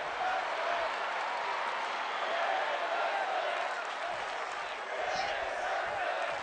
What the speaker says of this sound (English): The crowd now chanting women's wrestling.